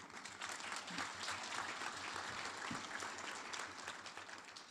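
An audience at a Kansas City startup pitch competition gives a round of applause, steady dense clapping from a large crowd heard at a distance, filling the room evenly throughout.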